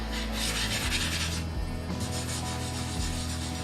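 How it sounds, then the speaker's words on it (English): Pastel rubbed into paper by a finger in circular motions while painting fair skin, a close, dry, continuous rasping rub with a brief pause midway. "Rub it in with your finger a little."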